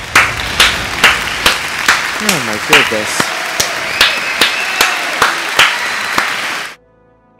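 Rhythmic crowd clapping in steady beats with cheering in a Star Wars Battlefront video game, a voice briefly speaking over it, before cutting to near silence.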